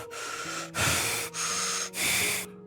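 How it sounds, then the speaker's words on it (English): Three deep, close breaths follow one another, each a loud, airy rush of air with brief pauses between. "I took a couple of deep breaths,"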